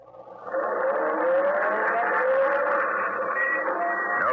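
A car engine starts and drives off in a classic detective radio drama, a steady loud motor drone with a rising whine held for several seconds, alone without talk.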